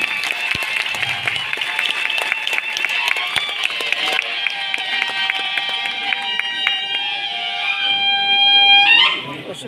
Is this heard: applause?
yes